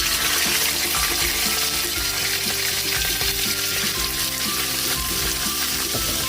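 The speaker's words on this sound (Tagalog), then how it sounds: "Magpiprito na po tayo ng ating isda para sa ating sarsyadong isda." Fish sizzles and crackles steadily in hot oil in a pan, cooked for Filipino sarsiyadong isda, with a dense, continuous frying hiss close by and occasional pops throughout.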